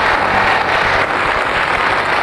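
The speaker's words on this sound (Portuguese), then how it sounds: "esta jovem que está aqui ao meu lado vai participar do programa diariamente às 7 horas da noite, quando vocês vão ver em casa o Roda Roda" A television studio audience applauds for a young woman on a game show, a dense, steady wash of clapping filling the room for the full stretch without pause.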